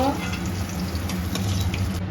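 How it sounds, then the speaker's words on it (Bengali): Pieces of katla fish frying in hot oil in a wok, a dense continuous sizzle and crackle that holds steady throughout, loud and close, with no talking. "এভাবে সবগুলো মাছ ভেজে নেব"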